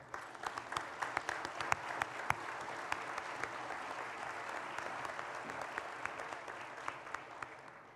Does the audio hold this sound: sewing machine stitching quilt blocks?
no